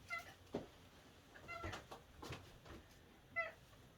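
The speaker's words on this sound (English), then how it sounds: "See, he won't stop meowing now because he wants some food." Cat meowing for food at feeding time, several faint, short meows spaced irregularly over a quiet indoor background.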